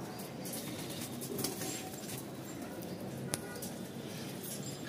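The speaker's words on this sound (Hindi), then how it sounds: "सारे कबूतर ये बैठे हुए हैं।" Soft cooing of domestic pigeons over a steady outdoor hum, with a brief flutter of wings partway through.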